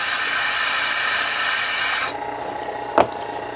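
Knife being ground on the coarse side of a Tormek sharpening wheel, a steady loud rasping hiss for about two seconds that then drops to a quieter scrape with one brief sharp scratch near the end.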